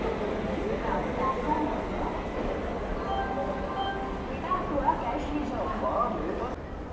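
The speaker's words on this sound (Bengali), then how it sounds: "ওই পাশ থেকে ঢুকছে খড়গপুরে, হাওড়া থেকে মুম্বাই মেল" The Howrah–Mumbai Mail rolling into Kharagpur railway station, a continuous low rumble of rolling wheels and carriages with station bustle, and people talking over it throughout.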